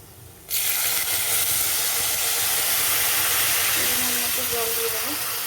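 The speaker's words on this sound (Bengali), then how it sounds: "এবার আমি জল ঢেলে দেবো।" Water poured into a hot pan of fried dalia lentils sets off a sudden loud, steady hiss and steam rush that carries on to the end, with faint bubbling beneath.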